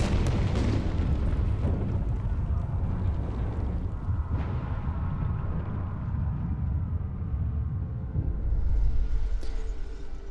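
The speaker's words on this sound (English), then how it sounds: "an explosion in the generator's foundations caused a tunnel collapse, trapping several workers" A heavy explosion deep in a coal generator's shaft in the city-survival strategy game Frostpunk, heard as a loud rumbling blast that opens the clip, then a long roar that slowly fades, with a late swell of debris noise.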